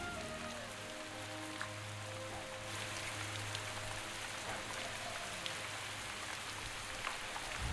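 Steady rain falls in the Legends of Aria game world, with misty weather and no animal sounds: a soft, continuous hiss of drops on surfaces at low volume, with a faint low hum underneath.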